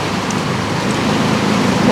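Heavy storm rain falls in a dense, steady hiss and patter, loud and close, without pause for the whole stretch.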